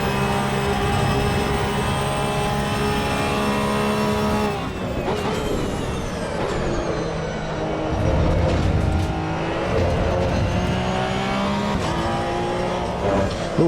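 Race car engine in the Assetto Corsa Evo racing game, a loud sustained engine drone whose pitch climbs and drops as the car shifts gears and the revs rise and fall, with no talking over it.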